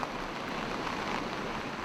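Steady rain falling by the sea in Nagoya, Japan, a dense even hiss of drops without pause, close and moderately loud, with no voices.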